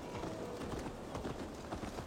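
Horse hooves clip-clop at a steady walking rhythm in a video game, a dense low thudding pattern heard close and continuous with no talk.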